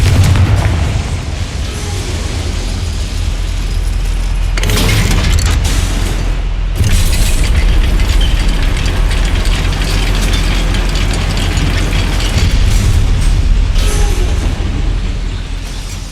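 The Confringo explosive spell in Hogwarts Legacy sets off a loud booming blast followed by mechanical clanking and rumbling, with a second heavy burst soon after.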